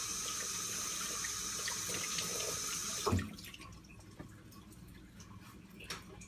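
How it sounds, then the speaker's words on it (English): Tap water runs steadily into a sink while hands are rinsed under it, then the flow cuts off abruptly with a soft thud, leaving faint drips and quiet handling noise. "And then I'm going to wash all that off my hands."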